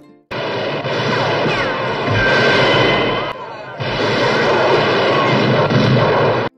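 Dense, relentless gunfire crackles and booms from all directions in a Thai action film, a loud chaotic barrage with a brief dip midway before resuming.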